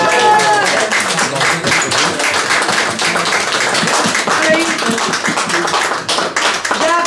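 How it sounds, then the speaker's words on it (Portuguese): Clapping and cheering at a family birthday celebration for a man named Gilberto, a steady, loud, dense wash of hands continuing for several seconds over music and voices. "uma grande salva de palmas a ele."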